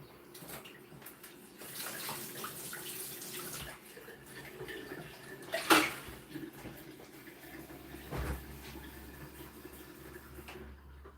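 Water from a home tap runs and splashes into a drinking glass holding ice, a steady close pour lasting several seconds with brief clinks and shifts, under faint background noise.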